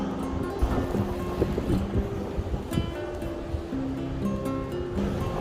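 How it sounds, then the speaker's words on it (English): Strong wind roars across a mountain trail in the Great Smoky Mountains, a steady rushing buffet with gusty swells and rumbling microphone wind noise, no voices. "The wind has really picked up."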